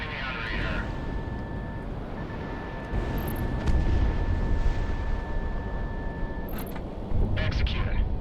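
Close explosions in the Project Wingman flight combat game, several deep booms swelling over a constant rumble of jet noise, with a warning tone running under them and a voice speaking.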